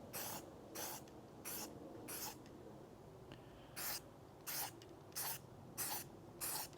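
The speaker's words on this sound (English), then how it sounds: "I'm going to go for this matte black spray paint." Matte black spray paint hisses from an aerosol can in a series of short, sharp bursts, about ten separate sprays with brief pauses between them, close to the listener and with no talking.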